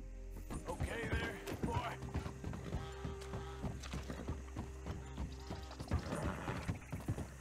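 Steady clip-clop of horse hooves plodding along at a walking pace in Red Dead Redemption 2, with faint mechanical creaks and a soft game-world ambience underneath.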